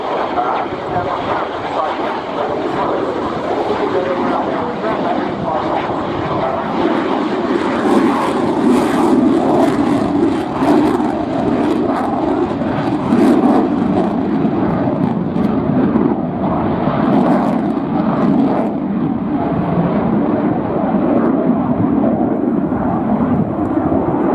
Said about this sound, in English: this is the second of the close-speed high-alpha flybys that we've seen today